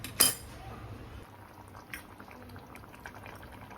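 A dhaba-style potato curry simmers in a pan with a soft, faint bubbling, marked by a clink of a utensil at the start and a few light taps, with no talk.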